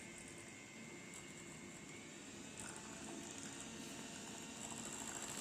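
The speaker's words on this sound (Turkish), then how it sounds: "Azar azar ilave ederek e, mikserle çırpacağım." An electric mixer whips cream for a milky dessert, giving a quiet, steady motor whir that holds constant and rises slightly toward the end.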